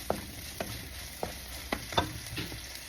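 Chicken liver and gizzard adobo ingredients cooking in a pan, with a soft continuous sizzle punctuated by about six sharp scraping stirs of a utensil against the pan.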